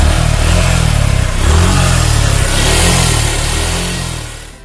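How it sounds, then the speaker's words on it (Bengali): A Suzuki Gixxer FI ABS motorcycle engine running loud and close, a steady low rumble that swells slightly as if revved, then fades toward the end, with no talk over it. "ইঞ্জিন থেকে এমন একটা শব্দ হয়"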